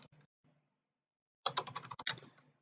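A couple of isolated key taps are followed by a pause and then a rapid burst of close, crisp typing on a computer keyboard as a search is entered.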